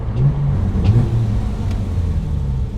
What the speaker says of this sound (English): in this you're having pure exhaust sound